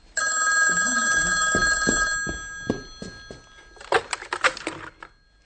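Telephone ringing in a hallway: an old-style bell phone rings in a sustained burst, then a second ring follows after brief clicks, loud and close.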